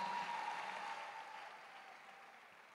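Faint applause from a crowd at a church conference rises briefly and then fades away over a few seconds, distant and soft throughout.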